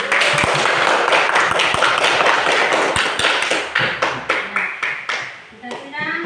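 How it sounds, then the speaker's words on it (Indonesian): A classroom group claps in a loud, close burst of sharp individual hand claps and taps that thins out and fades toward the end, with a voice briefly audible. "kita beri tepuk tangan kepada"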